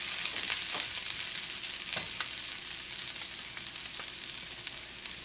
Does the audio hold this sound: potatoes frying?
yes